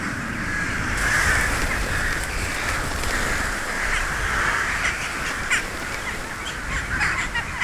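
Jackdaws and carrion crows squabble over roosting spots high in a bamboo forest, with a steady chorus of overlapping caws and calls over a constant windy rustle, moderately near and continuous throughout.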